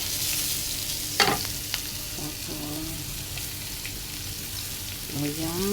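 Onions frying with fish in a pan, a steady sizzle throughout with a few scraping stirs and clinks of a utensil; brief talk is heard near the end.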